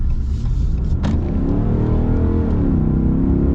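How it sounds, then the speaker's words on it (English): A Ram pickup truck engine runs steadily with a deep low rumble and a slight rise in pitch partway through, loud and close with no talk. "Love the sound of this engine."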